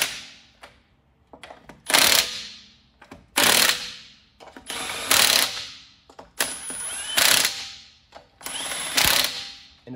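A ratchet snugs the wheel lug nuts on a Dodge Caravan in a star pattern, loud close bursts of rapid mechanical clicking repeating roughly every second with short pauses between.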